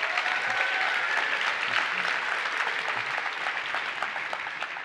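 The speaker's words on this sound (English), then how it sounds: "So please join me with a nice round of applause for Alex Simons," Audience applause fills a tech presentation hall, dense, even clapping at moderate distance, sustained for the whole stretch with no voices over it.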